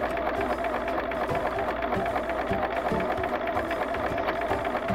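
A sewing machine gathering fabric into a ruffle runs steadily and loudly up close, a continuous mechanical hum with a fast rhythmic needle clatter and faint regular ticks throughout.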